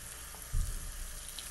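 Steady running water from a tap rinsing the hair of an American Girl doll, a continuous broadband wash that stays even throughout, with a brief low thump partway through.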